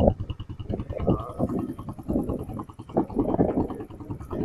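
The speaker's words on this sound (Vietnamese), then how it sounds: "anh em nghe tiếng máy bô này rất là hay" A new Honda Rebel 125cc motorcycle idles nearby, its engine and exhaust giving a steady, smooth, low rumble with slight pulsing, continuous and without talk.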